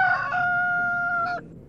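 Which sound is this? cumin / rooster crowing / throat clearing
rooster crowing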